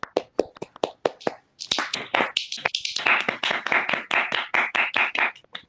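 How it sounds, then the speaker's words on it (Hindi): A crowd claps to welcome a guest singer onto a show, starting with a few sharp separate claps and then swelling into loud, dense, steady applause that runs to the end. "कृपया ढेर सारी तालियों के साथ स्वागत कीजिए"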